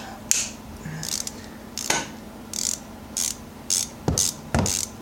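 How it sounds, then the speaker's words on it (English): A long ratchet wrench working on a motor removal, sharp bursts of clicking pawl repeated about a dozen times in short uneven strokes, close and crisp against a quiet background. "Our long ratchet"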